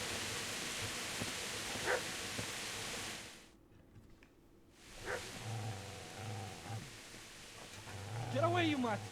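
A dog barks in the medieval game Kingdom Come: Deliverance. Several sharp barks ring out among a busy ambient background, with a short silent gap mid-way and speech at the end.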